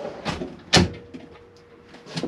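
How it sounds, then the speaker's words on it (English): A drawer catch releases with a sharp click and the drawer slides open inside an Adria Matrix motorhome, a near, brief knock followed by softer rattling. "if you just push the catch up to release the drawer"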